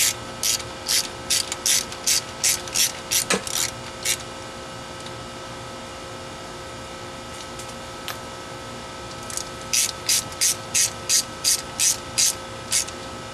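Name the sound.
ratchet tightening intake manifold bolts on small block Chevy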